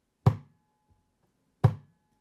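The fleshy part of a palm strikes an acoustic guitar body like a kick drum: two deep, hollow thumps about 1.4 seconds apart, close and clear, each decaying quickly into near silence.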